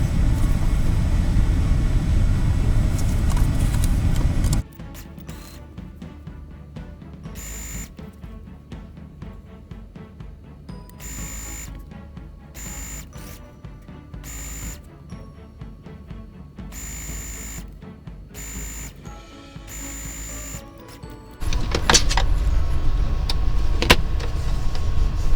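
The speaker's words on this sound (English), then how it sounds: "Now I'll go ahead and sew up this other side seam." A sewing machine stitching a side seam on a Simplicity 3514 garment runs in a series of short, close motor-driven bursts separated by pauses, framed by louder steady background noise at the start and end.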